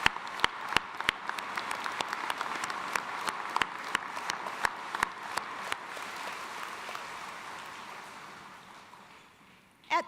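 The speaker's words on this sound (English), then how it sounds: "Let's have a round of applause for each other." Graduates and guests at a university commencement ceremony in an indoor arena applaud together, a spread-out wash of clapping with distinct close hand claps punctuating it, fading gradually over about ten seconds.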